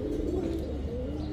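Pigeons coo in a low, continuous murmur close by, the rounded calls overlapping steadily through the short stretch with a few faint chirps above.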